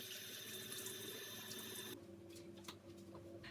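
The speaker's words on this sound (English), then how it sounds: "So I'm going to go ahead and wash up again." A kitchen sink tap runs steadily in a loud, close wash of water for about two seconds, then cuts off, leaving faint splashes and drips with no talking.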